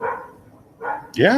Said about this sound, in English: that's my neighbor's dog. They're loud as fuck,